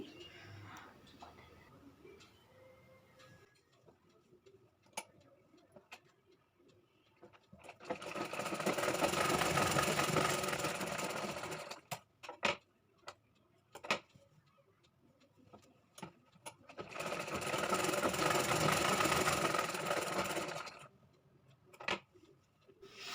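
A sewing machine stitches the shoulder and side seam of a nighty in two steady, humming, rapid bursts, close and fairly loud, separated by quieter stretches with scattered clicks and handling noises.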